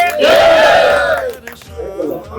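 A crowd loudly roars a chant of praise to Ranchhod Rai, a massed sustained shout that swells and fades, followed by a few scattered voices.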